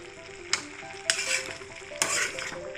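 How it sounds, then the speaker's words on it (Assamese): Puroi greens curry with mustard paste sizzles steadily in a pan while a spoon scrapes and stirs it in a few distinct strokes. "মাজে মাজে এনেকৈ লাৰি থাকিব লাগিব।"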